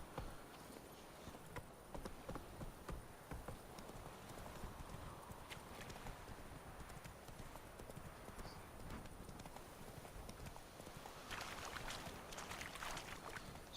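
Roach, the horse in Witcher 3, trots along with steady, quick clip-clop hoofbeats at low level, a continuous rhythmic patter that lasts throughout.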